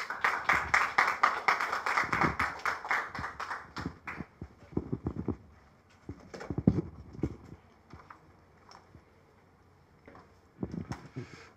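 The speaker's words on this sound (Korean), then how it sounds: "박수 부탁드립니다" An audience at a community lecture on social economy and village jobs claps to welcome a professor to the podium. Dense clapping fills the first four seconds, then thins to scattered, fading claps with quiet room noise between.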